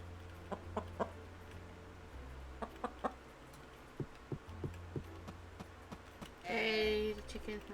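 Chickens cluck in the farming video game Sun Haven, soft repeated clucks with short taps and a low game tone beneath, ending in a brief brighter chime.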